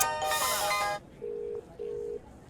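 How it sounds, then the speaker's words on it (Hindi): Mobile phone ringtone sounding, a bright electronic burst of notes followed by two short steady beeps with gaps, close and clear. "कितना गंदा रिंगटोन है"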